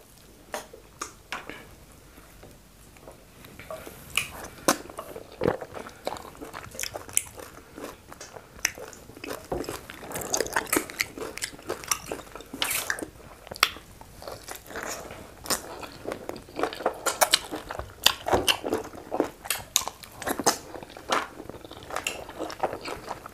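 Close, wet chewing and squishy bites of fufu with ogbono soup and assorted meat, with irregular crunchy clicks and mouth sounds repeating steadily, no talking.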